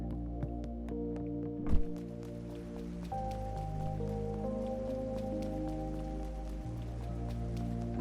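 Rain patters steadily in a scene from the video game Trails through Daybreak, a soft continuous hiss of drops beneath sustained music tones, with one brief louder thump partway through.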